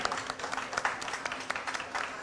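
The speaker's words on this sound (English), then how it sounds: "a round of applause for this lovely gentleman" A short burst of audience applause for a guest at a Thai food festival cookery event, many hands clapping in an uneven, lively patter with a faint voice underneath.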